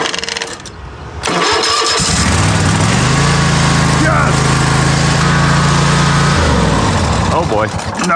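A riding mower engine is cranked to start, with an initial rough churn followed by a loud sustained grinding crank that runs several seconds before stopping, with a voice around it.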